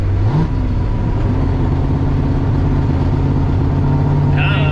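A turbocharged Cutlass fitted with a new 5.3 engine drives along, its steady engine drone rising in pitch early as it revs, loud and close throughout with a brief higher whine near the end.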